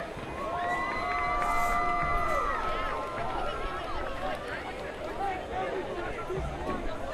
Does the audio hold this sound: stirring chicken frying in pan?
no